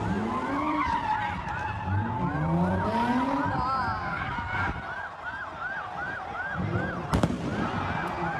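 Cars doing donuts at a Philadelphia street takeover, with repeated wavering tire squeals over crowd noise and a sharp firework bang near the end.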